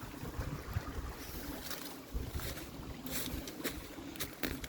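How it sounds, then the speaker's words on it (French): Steady rushing water fills the clip, a broad continuous wash with occasional brighter splashes, moderately loud and without voices. "Le bruit de l'eau est très agréable"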